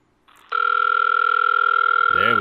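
A telephone line on a call to EA support: a brief faint tone, then a loud steady ringback or dial tone holding for two seconds before a voice cuts in at the end.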